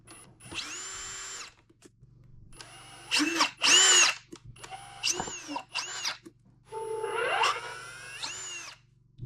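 A power drill backs screws out of a CyberPower UPS battery backup casing: several separate whirring bursts, pitch rising and falling, each lasting about a second, close and loud, separated by short quiet gaps.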